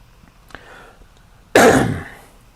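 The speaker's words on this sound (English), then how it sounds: "Cough, cough." One sharp, harsh cough bursts out after a faint earlier throat noise, loud and close, then fades quickly.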